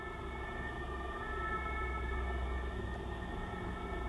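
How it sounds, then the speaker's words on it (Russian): Steady wailing ambulance sirens carry from a distance over a low rumbling background of helicopters, sounding like emergency vehicles passing outside. "И кареты скорой помощи."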